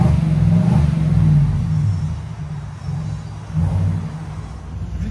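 A 2024 Chevy Tahoe with a 5.3L V8 and a Black Widow exhaust revs up, a deep, loud, rumbling roar that swells, eases off and builds again, close by and with no talk.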